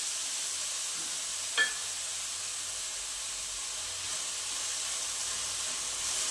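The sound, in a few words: onion with fennel seeds frying until reddish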